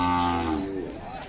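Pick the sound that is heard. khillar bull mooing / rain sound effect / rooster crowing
khillar bull mooing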